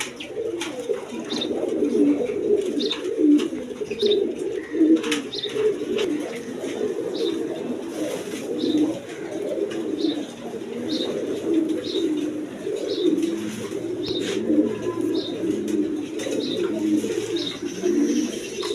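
Caged pigeons coo in a steady, overlapping chorus close by, soft throaty calls repeating throughout with occasional higher chirps.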